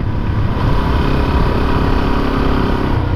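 Suzuki DRZ400S motorcycle engine running steadily at a close distance, a loud, continuous low rumble with no pauses or revving changes.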